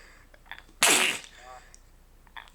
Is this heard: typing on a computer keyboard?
no